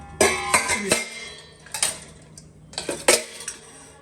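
Kitchen utensils, metal pots and dishes, are handled and set down in a home kitchen, giving a series of close, sharp clinks and clatters in bursts with short pauses between them.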